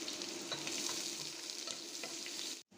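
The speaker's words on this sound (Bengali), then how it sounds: "এখন দিয়ে দিচ্ছি পেঁয়াজ, দিয়ে দিচ্ছি রসুন। পেঁয়াজ একটু নরম করে ভেজে নিব।" Chopped onion and garlic sizzle in a hot pan that still holds blackened chillies, with a continuous close frying hiss and faint stirring scrapes until a brief drop-out near the end.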